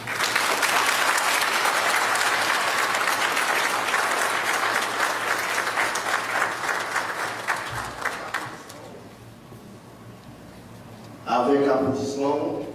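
A large audience applauds Haitian President Jovenel Moïse after his Independence Day speech on January 1, 2021, with sustained clapping for about eight seconds that then fades out, followed by a voice speaking.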